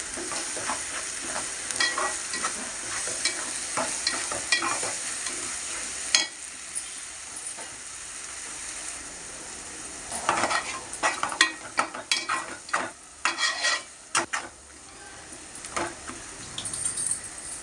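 Fish curry cooking in oil, a Godavari-style fish gravy, with steady sizzling and bursts of scraping stirs and clatter in the pan, close and moderately loud.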